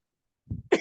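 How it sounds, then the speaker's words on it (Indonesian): Two short, sharp coughs after a moment of silence, close and fairly soft, the second a little brighter than the first. "Lagi batuk."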